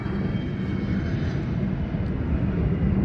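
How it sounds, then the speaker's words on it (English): A fixed-wing aircraft flying near an airport, a steady low broadband engine roar that stays loud and unchanged throughout, with no voices over it. "Don't mind the aircraft in the background."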